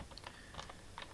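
Quick bursts of keystrokes on a computer keyboard while entering code, a few light clicks in uneven rhythm, close and quiet with no talking.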